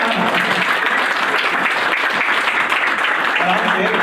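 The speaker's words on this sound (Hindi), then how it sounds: "जोरदार तालियां।" Loud, dense applause from guests at a retirement party, a continuous crowd of clapping hands that holds steady throughout, with a voice briefly audible.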